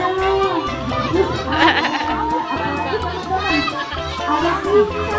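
A goat bleats at a petting farm, sounding a few times amid children playing and chattering nearby.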